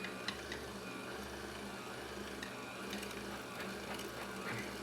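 An electric meat grinder on setting 2 runs with a steady mechanical whir and faint ticking as ribeye steak is fed through it a second time, a low continuous motor hum throughout.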